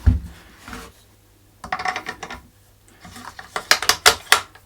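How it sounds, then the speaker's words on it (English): An Anschutz 1782 rifle bolt is slid in and locked: a short metallic clack, then a pause, then a run of crisp sliding and clicking mechanical sounds building to sharper snaps, close up with no talk. "In goes the bolt, that locks in perfectly smooth"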